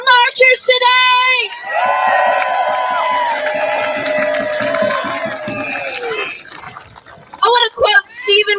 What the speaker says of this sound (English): Can we give another amazing round of applause for our marchers today?